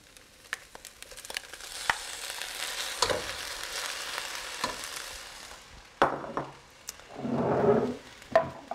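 Pork and sauces are stir-fried with cabbage for moo shu pork, a steady close sizzle with the scrape and clatter of stirring, then a brief burst of louder frying near the end.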